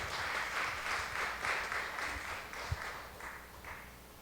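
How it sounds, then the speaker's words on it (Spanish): A church congregation claps together in steady, moderately distant applause that fills the room and slowly tapers, with no voices over it. "Den una ofrenda de palmas al Señor"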